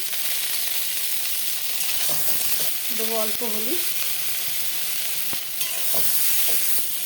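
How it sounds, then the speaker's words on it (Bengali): Pointed gourd sizzles steadily in hot mustard oil while someone stirs, with a brief spoken remark midway. "এই তেলে আমি পটলটা ভেজে নেব"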